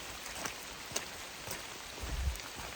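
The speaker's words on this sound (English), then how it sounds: "it's just solid rain all day" Steady rain falls on a hiking trail south of Mount St. Helens, a continuous close hiss with scattered sharper drop taps and a low rumble swelling near the end.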